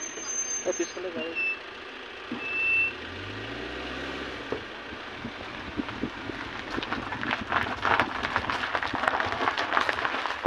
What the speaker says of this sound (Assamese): পিছফালে গাড়ী